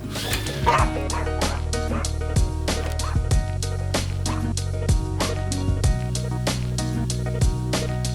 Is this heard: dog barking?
yes